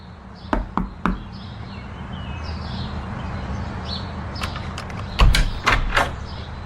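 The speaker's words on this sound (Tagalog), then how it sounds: "Sorry na mali lang yata ako ng kinatok" Knuckles rap on an apartment door in quick bursts, three sharp knocks, a pause, then a heavier cluster of knocks close by, against a low steady room hum.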